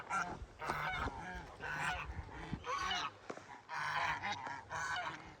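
Ducks at a large cow shelter in Kankavli, Konkan, give loud, repeated honking quacks in several close, overlapping bursts with short pauses between them. No one speaks.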